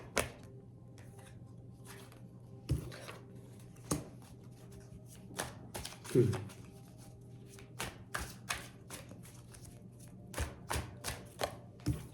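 Oracle cards are shuffled by hand in a quiet room, with soft riffling bursts and sharp taps and slaps at irregular intervals, faint and close, with no talking.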